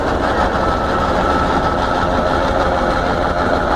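A 1917 Aultman Taylor vintage tractor engine runs steadily and loudly at a farm show, a dense continuous rumble with no pauses and no voices.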